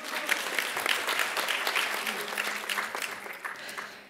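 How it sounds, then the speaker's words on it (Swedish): Applause at an election conference, a steady dense round of clapping from the audience lasting about four seconds and tapering off at the end. "Vill du ha en applåd ändå?"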